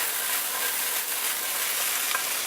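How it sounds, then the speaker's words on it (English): Steady, loud sizzling of mushrooms frying in a pan, a dense crackling hiss that continues without pause. "You can hear it sizzling and bubbling, and it's rocking and rolling in there."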